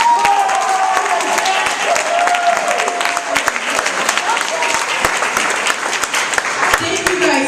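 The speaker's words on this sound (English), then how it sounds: "students, I want you guys to clap for the family members that showed up." An audience at a high school talent show claps for the students' family members, a loud, sustained round of applause with scattered cheers and voices mixed into the crowd noise.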